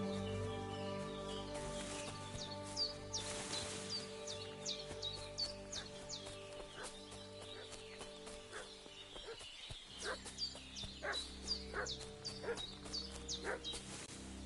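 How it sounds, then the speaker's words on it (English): A dog in Kingdom Come: Deliverance 2 barks and fusses in repeated short yelps, fairly faint and set among chirping birds and quiet ambient tones, with no talk. "What's that dog making such a fuss about?"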